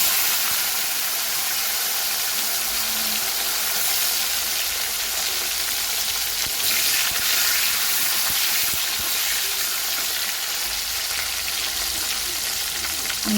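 Tomatoes dropped into hot oil with fried fish, cardamom and bay leaf sizzle and crackle steadily, a loud, dense frying hiss that holds evenly throughout with no talking.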